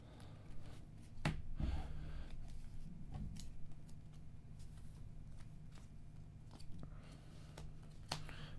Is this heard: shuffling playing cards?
yes